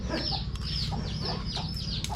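Chickens cluck repeatedly in the background of a street food stall cooking stir-fried holy basil with minced pork and chicken offal, steady clucks over a constant low rumble of kitchen noise.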